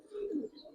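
A senior pigeon in a keeper's collection coos once, a soft, low, brief call heard close and fairly quiet with no other sounds around it.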